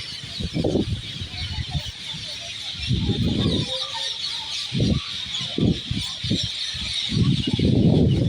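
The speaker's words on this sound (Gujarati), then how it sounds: "પોપટ કેટલા બધા છે કે જેનો અવાજ આવી રહ્યો છે" Harsh, squawking parrot calls come in short repeated bursts, several birds at moderate distance in a garden by Lakhota Lake, Jamnagar, over a steady hissing background.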